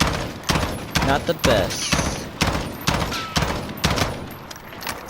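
Rapid bursts of M16A4 rifle fire in Call of Duty: Modern Warfare, in several short volleys at a steady rhythm, loud and close, with someone talking over the shots.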